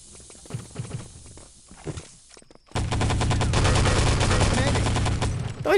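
Old-school shooter video game gunfire, a sustained loud rapid burst of automatic fire following quieter scattered shots and footsteps, with a player's voice faintly under the action.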